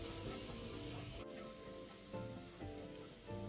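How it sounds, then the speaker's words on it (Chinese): Chopped shallots fry in oil in a pan over medium heat, giving a steady soft sizzle and hiss, close but quiet, with faint stirring sounds underneath. "再将红葱末倒入爆香，一直油爆至葱末转金黄色。"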